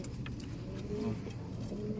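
A kokok pigeon in a loft gives soft, low cooing calls, fairly close, with quiet background talk and ambient noise.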